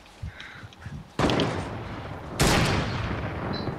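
Two loud gunshots in Fortnite, each a sharp blast with a lingering tail, spaced about a second apart after quieter scuffling footsteps and game sounds.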